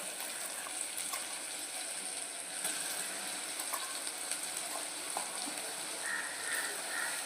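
Tomato and onion sautéing in a pan as prawns go in, giving a faint, steady sizzle and soft crackle with a few small pops and no talking.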